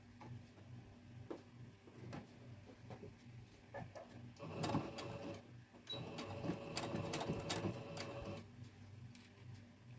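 A domestic sewing machine running a top stitch close to the edge of a dog coat, its steady mechanical whir and rhythmic needle ticking heard up close, swelling louder midway through, with no talking.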